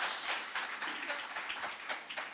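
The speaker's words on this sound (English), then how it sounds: "Come on, give her a round of applause." An audience at a live interview event applauds steadily, a dense, fairly faint wash of clapping that continues evenly through the whole stretch.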